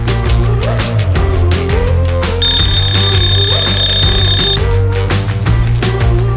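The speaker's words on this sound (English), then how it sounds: "He can set a countdown timer to help you track with your work." An Eilik desktop toy robot's countdown timer alarm rings as a steady electronic beeping tone for about two seconds, set over loud continuous background music.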